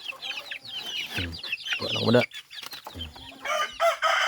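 Chickens on a farm cluck in busy, overlapping bursts close by, with a rooster's crow among them, while a person talks now and then over the flock.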